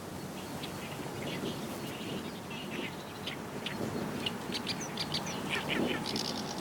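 Reed warbler song at a freshwater pond in a Tokyo bird refuge, fine chirps and trills scattered over a murmuring background, moderately distant and faint throughout.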